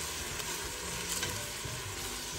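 Roma tomatoes sautéing in a pan as a seafood soup base, a steady close sizzle with soft stirring throughout and no talk.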